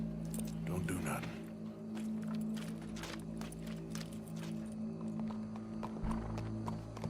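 Horse hooves clip-clop steadily in Red Dead Redemption 2 gameplay, a mid-distance rhythmic patter under a low ambient drone, with people talking over it.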